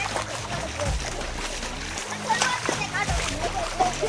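Splashing and sloshing as someone wades through knee-deep floodwater over a road in a farm area, steady close water churning with a few louder splashes, voices talking over it.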